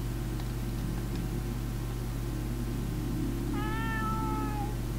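A game cat in Space Pilgrim gives a single clear, close meow near the end over a steady hum of background noise.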